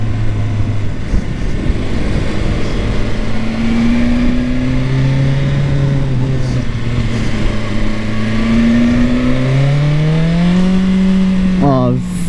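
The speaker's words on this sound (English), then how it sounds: "The sound of that 1000cc engine" 2021 BMW S 1000 XR motorcycle with a 1000cc inline engine accelerating hard, its pitch climbing through gear changes in a loud, continuous run with wind noise, recorded from the rider's position.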